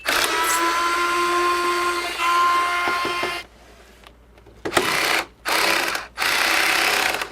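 A T15 screw held tight by original factory torque is worked out of an Xbox console with a screwdriver: a steady, close whirring whine that cuts off, then returns in short bursts separated by brief pauses.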